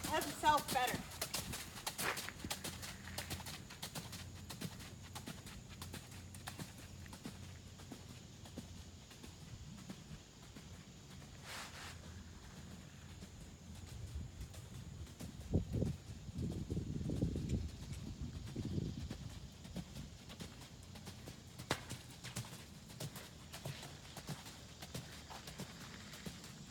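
A horse works at a canter, its hoofbeats thudding in uneven bursts at a moderate distance, strongest in a cluster midway through, over a quiet outdoor background.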